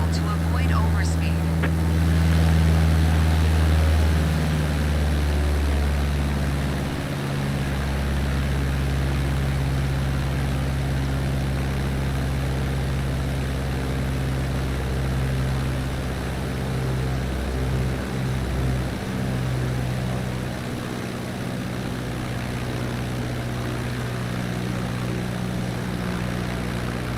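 A propeller aircraft engine drones steadily in the Microsoft Flight Simulator game during descent, a low humming tone with harmonic bands holding fairly constant, heard under occasional talk.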